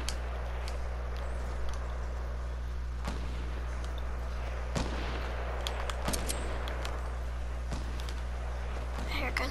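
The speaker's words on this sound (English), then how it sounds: "I hear gunshots right now." Scattered gunshots in a shooter video game, sharp distinct cracks at irregular intervals over a steady low engine-like drone, fairly distant and moderate in level.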